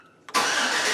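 A 2008 Chevrolet Silverado pickup, fresh from new spark plugs and plug wires at its 100,000-mile service, cranks briefly and then catches, settling into a loud, steady close-up idle.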